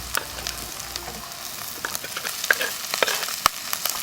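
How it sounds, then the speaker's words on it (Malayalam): Clam meat fries in a pan with crushed onion for a Kerala-style thoran, a soft steady sizzle broken by sharp pops and crackles, close and moderately quiet. "മൊരിഞ്ഞു തുടങ്ങിയിട്ടുണ്ട്, പൊട്ടി തുടങ്ങിയിട്ടുണ്ട്"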